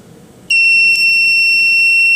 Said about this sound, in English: Once the gas is detected, it activates the buzzer.